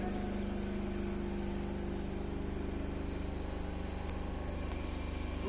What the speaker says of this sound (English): This is the no load condition of the single phase induction motor.